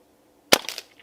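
Single sharp crack of a Barra 1100Z .22 PCP air rifle tuned quiet for backyard shooting, a short, close pop with a brief ringing tail, alone after silence.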